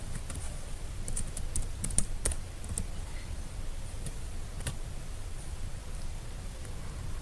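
Computer keyboard typing while entering a formula in an Excel spreadsheet: soft, scattered key taps in irregular bursts over a steady low background hum, with no talking.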